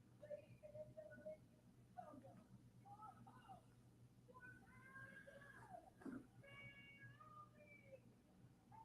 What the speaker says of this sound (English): my cat is making her presence felt